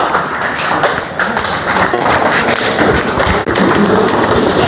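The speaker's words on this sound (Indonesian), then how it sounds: "Silahkan kita beri aplaus dulu untuk kelompok 3." A classroom group in a vocational high school lesson gets dense, steady applause from many hands clapping at once, loud and close, lasting several seconds without speech.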